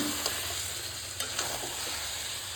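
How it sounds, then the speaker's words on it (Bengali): Mutton sizzles in hot oil in a cooking pot: a steady hiss close by, broken by a few light knocks and scrapes as the meat is stirred. "মটন দিয়ে ভালো করে কষাবো"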